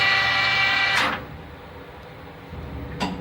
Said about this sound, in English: I'm going to shut the machine off.